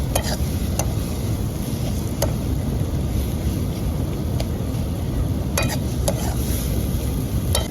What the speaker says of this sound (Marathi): आलं लसूण पेस्ट टाकू.